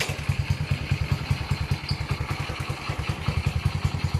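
A Honda Wave 100 motorcycle engine fitted with an aftermarket Api box runs close by, a steady, rapid low thumping putter with an even pulse throughout.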